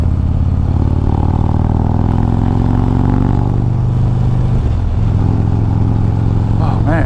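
A 2023 Harley-Davidson Road Glide Special with a Screaming Eagle Stage 2 upgrade accelerates hard, its loud, deep engine rumble rising steadily over several seconds under heavy wind noise.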